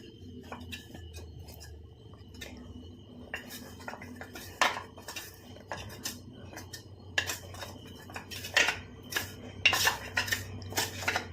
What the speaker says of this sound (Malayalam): നമുക്കൊന്നുകൂടെ ഒന്ന് മിക്സാക്കി കൊടുക്കാം